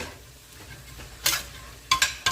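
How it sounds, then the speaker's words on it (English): A utensil scrapes and clinks in a pot of garlic sizzling for chili, with a faint steady fry underneath and a few sharp metallic knocks near the end. "We're going to stir this"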